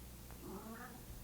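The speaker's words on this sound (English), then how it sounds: "That is my cat." A house cat gives a single faint, drawn-out meow over a low background hum indoors.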